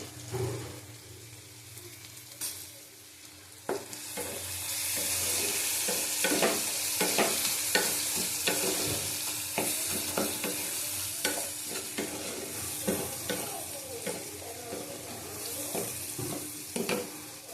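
Kashmiri chili powder fries in a hot pan with a soft, continuous sizzle, while a spoon scrapes and stirs in repeated clinking strokes, close and moderately quiet.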